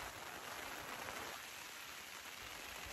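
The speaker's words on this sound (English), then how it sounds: "We've got a lot of rain." Rain falls steadily on a Naturehike Mongar 2 tent pitched in an exposed, windy spot, a dense, even hiss of drops on fabric, constant and close with no voices.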